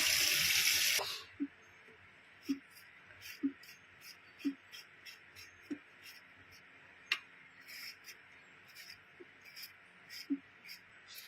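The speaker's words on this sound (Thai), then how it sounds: "ปอกเสร็จแล้วก็ล้างเอา เหมือนกับพวกเศษ สิ่งสกปรกออก" Peeled produce being rinsed under running water, a brief loud splash of water at the start, then quiet scattered drips and small clinks with faint insect chirping in the background.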